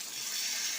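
Water poured into a pan of soya rezala, a brief, faint, steady splashing rush.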